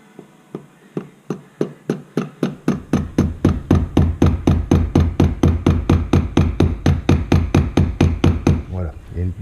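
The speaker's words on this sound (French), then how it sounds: "Vous reprenez l'outil qu'on avait fabriqué avec le clou et vous le frappez jusqu'à ce que ça rentre à fleur" A hand hammer strikes a homemade nail punch, driving a pin into a Harley Davidson Softail 1340 rear brake master cylinder. Sharp metallic blows sound close and loud, starting spaced and quickly settling into a fast, steady rhythm of dozens of hits.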